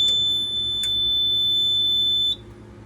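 A fire alarm sounds during testing in an apartment building, giving a loud, steady high-pitched electronic tone that holds for over two seconds and then cuts off abruptly, with clicks near the start.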